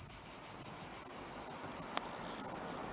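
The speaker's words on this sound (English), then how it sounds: "then we both get deafened by insects" Roadside insects, cicadas or crickets, shrilling loudly and continuously along a road in France during a motorcycle tour on a Yamaha MT-09, a dense unbroken high buzz with one brief click partway through.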